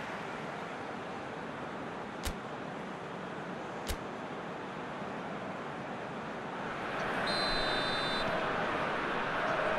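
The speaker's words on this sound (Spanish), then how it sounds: "Suena el pitido que marca el inicio del segundo tiempo." Referee's whistle in PES 2021 football game blowing to start the second half of a Netherlands vs Argentina World Cup quarter-final, a sustained high tone over steady crowd noise, preceded by two brief sharp clicks.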